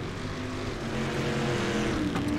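Dirt street stock race cars roaring around Lanier National Speedway in the video game iRacing, a steady loud engine drone of several cars close by with no talk.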